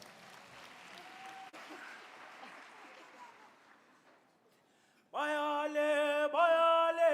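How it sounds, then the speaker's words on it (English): Graduation audience applause at a university ceremony in Durban for a standing choir, a long spread of clapping across a large hall that fades down, then gives way to loud sustained group singing. "Let's give them a round of applause."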